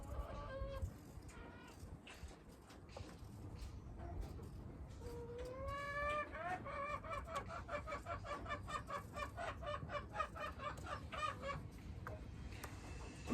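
Chickens in an East African village make repeated clucking calls with rising, strained squawks, fairly close and over a steady bed of rustling background noise.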